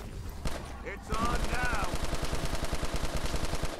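Rapid automatic gunfire from a BO2 weapon in Black Ops 3 Zombies, a fast evenly spaced burst that runs loud and close to the end after brief game noises and a growl-like cry.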